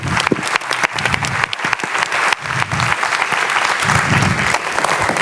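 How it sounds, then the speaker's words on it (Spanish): A lecture audience in Valparaíso applauds a speaker about to present, loud and close, with dense clapping and some murmured voices among the crowd. "Un gran aplauso para Virginia"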